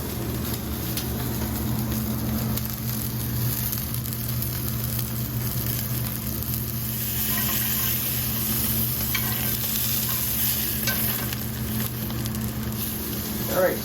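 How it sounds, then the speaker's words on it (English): Bratwurst fry in a pan with a continuous sizzling crackle and hiss, steady and close throughout, with a low hum underneath and no talking. "we're just going to let these sizzle for a few minutes, flip them over, and we'll have a nice golden brown bratwurst."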